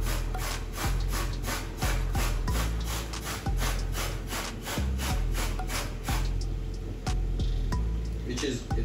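Food being grated on a kitchen grater for homemade KFC, a repeated rhythmic scraping stroke about once per second, close and fairly loud, with faint background sounds between strokes.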